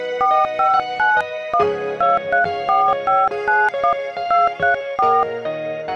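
Numbers are dialed on a mobile phone keypad, producing a quick series of short electronic beeps in irregular bursts, close and clear with no talk.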